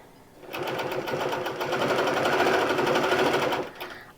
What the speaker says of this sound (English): So now I have control of the sewing machine.